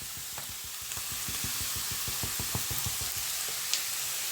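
Onions, garlic and mushrooms sizzle in a pan, seasoned with table salt and black pepper as a risotto base; a steady close frying hiss runs throughout, punctuated by quick rhythmic stirring clicks and scrapes.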